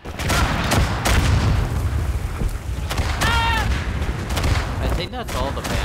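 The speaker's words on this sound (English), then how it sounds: "Oh crap, artillery." Artillery fire in the World War I game Verdun: dense, continuous rumbling explosions and booming impacts under a busy battle mix, with brief whistling shell sounds and talk over the top.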